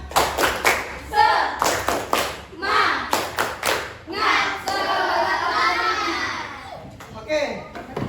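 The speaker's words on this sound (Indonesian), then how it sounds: "kita tepuk semangat dulu" A group of schoolchildren claps a quick rhythmic spirit cheer in an Indonesian classroom: sharp bursts of hand claps close by, followed by excited children's voices and shouting.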